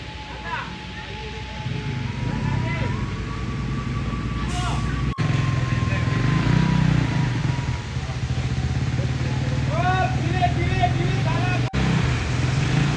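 Motorcycles and other traffic passing along a slippery road at a landslide site, a continuous engine rumble with a vehicle approaching and receding, under talk.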